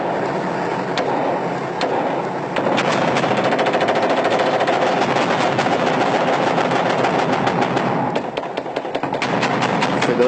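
Sustained machine gun fire aimed at a mosque minaret, loud, rapid bursts of shots over a dense roar, pausing briefly and then resuming.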